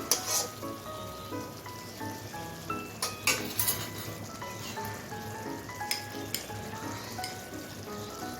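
Fried spice masala for egg bhuna hisses and sizzles in a pan as water is poured in, with clinks of a spoon or metal utensil against the pan and steady bubbling.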